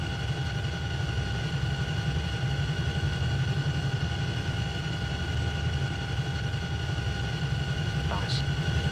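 A Chinook H47 helicopter idles in the FSX flight simulator, giving a steady, even low rumble layered with constant whining tones. The drone holds unchanged for the whole stretch, with a faint brief click near the end.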